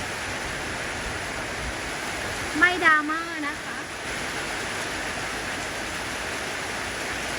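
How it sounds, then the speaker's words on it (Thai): Steady rainfall at an elephant sanctuary, a broad even hiss of rain running throughout, with someone speaking briefly over it partway through. "วันนี้ฝนก็ตกแล้วนะคะ"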